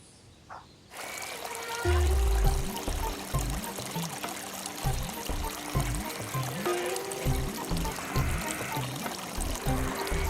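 Well water pouring from a storage tank on a farm, a steady splashing trickle running throughout with a heavier gush near the start, while people talk intermittently over it.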